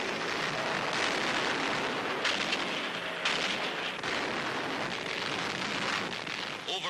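Heavy bombs, including 1,000-pound bombs, explode during a 1942 air raid on docks and installations at channel ports, a dense continuous roar with louder bursts rising through it and no voices.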